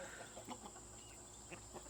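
Chickens and roosters in a pen cluck softly in short, scattered calls, faint against a steady hum in the background.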